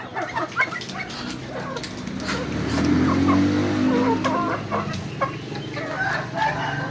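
Chickens and ducks in the Philippines: a rooster crows over clucking and assorted fowl calls, fairly close, with a car or engine rumble underneath and no talking.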